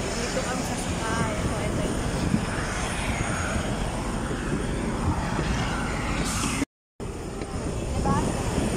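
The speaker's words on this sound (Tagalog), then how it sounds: "Aeroplano. Dito kami sasakay." Fixed-wing airplane engine roaring steadily nearby as travelers prepare to board, with people talking over the continuous drone.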